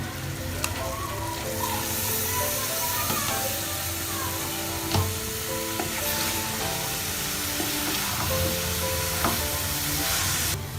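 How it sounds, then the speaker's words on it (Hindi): Potatoes and fenugreek leaves fry steadily in a pan for Punjabi aloo methi, a continuous close sizzle with occasional stirring scrapes and clicks, no talking. "आलू और मेथी को अच्छे से अब हम भून लेंगे।"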